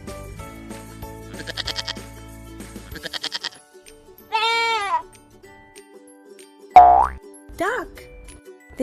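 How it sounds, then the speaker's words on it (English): Goat bleats come as a few short, wavering cries after a stretch of music and a brief boing, close and clear, with a voiced narrator nearby. "Goat says bleat."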